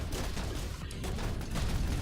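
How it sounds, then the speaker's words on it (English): Enemy ship gunfire in the space game Avorion: a dense, continuous barrage of loud rapid shots and rumbling blasts filling the whole stretch without pause. "Oh, this guy here is gonna shoot at me."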